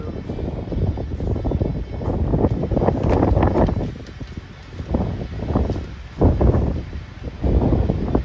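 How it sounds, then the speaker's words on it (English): Strong wind buffets the microphone in loud, low rumbling gusts that rise and fall throughout, with no voices. "it is windy out here today."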